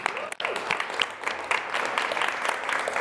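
An audience at a civil society event applauds, with dense, steady clapping throughout and a faint voice briefly audible early on.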